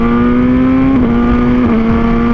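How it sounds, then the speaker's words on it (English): A motorcycle engine at a bike meet drones loud and close, holding a steady pitch with a couple of slight dips. "All the bikes and all the revving."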